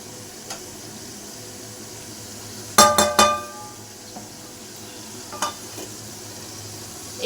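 Spice paste with chopped green chillies cooks in a pan under a low, steady sizzle, broken by a few sharp metallic clinks of a utensil striking the pan and later softer taps.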